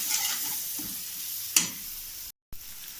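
Masala sautéing on a low flame for noodles, stirred with a spoon in a pan: soft sizzling with a few scrapes and one sharp clink, close and quiet, broken by a brief silent gap, no voices.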